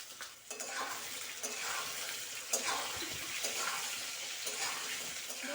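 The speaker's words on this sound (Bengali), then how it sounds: "তেলটা খুব ভালোভাবে গরম হয়ে গেছে, এবারে আলুগুলোকে দিয়ে দিচ্ছি সামান্য একটু লবণ।" Potatoes fry in hot mustard oil, giving a steady, close sizzle with a few soft clinks of a utensil against the pan.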